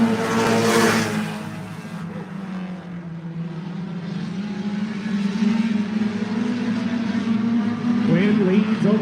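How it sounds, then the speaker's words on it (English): Stock cars race at Buds Speedway in Cape Breton, Nova Scotia, with a steady engine drone and roar under a track announcer's continuous commentary. "As Cody Quinn continues to lead in car number 31"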